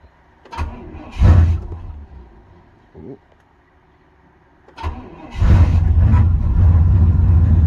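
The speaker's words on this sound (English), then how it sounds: "Use the cold start of the 93 GMC." A 1993 GMC engine cold-starting at minus 12 degrees: a couple of short cranking attempts with pauses, then it catches and settles into a loud, steady running roar close by.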